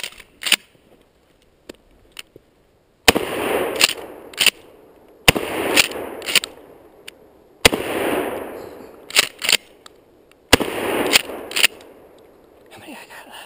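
Gunshots fired at a tree crack out loud and close: a few light snaps, then four heavy blasts spaced a couple of seconds apart, each followed by quick sharp cracks and a fading echo.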